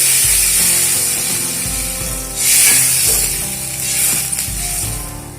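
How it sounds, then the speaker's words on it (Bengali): Water goes into a hot pan of fried parshe fish curry, bringing a burst of loud hissing sizzle that swells and fades twice against a steady background of frying and the clatter of cookware. "এবারে এর মধ্যে দিয়ে দেবো পরিমাণ মতো জল"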